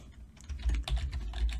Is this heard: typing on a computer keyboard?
yes